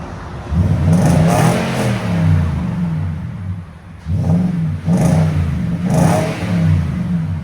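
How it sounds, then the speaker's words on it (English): A 2017 Nissan Titan SL pickup with a 5.6L V8 and a Magnaflow exhaust with black tips revs in repeated bursts, its deep exhaust note rising and falling loudly and close, with no talking. "MAGNAFLOW is known for deepness and not too loud."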